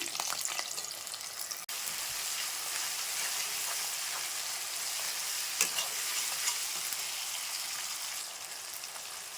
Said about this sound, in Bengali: লাল লাল করে কিন্তু আমি আলুগুলো ভেজে নিলাম